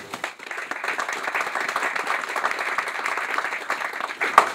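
A crowd claps for trustees at a university groundbreaking and naming ceremony for a new residence hall, a steady outdoor round of applause that holds evenly throughout.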